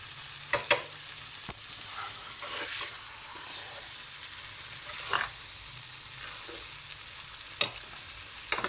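Chicken liver (kaleji) frying in masala and ghee, a steady close sizzle with a few sharp clinks and scrapes as the pieces are stirred and turned in the pan.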